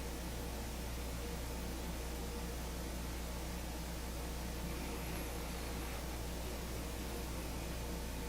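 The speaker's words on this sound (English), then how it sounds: "remember this is the sound of the air conditioned" Air conditioner humming in a quiet room, a faint, constant broadband hiss with a steady low hum, unchanging throughout.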